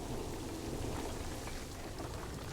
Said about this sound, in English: Heavy rain right here.